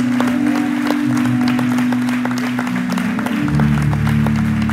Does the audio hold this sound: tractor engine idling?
no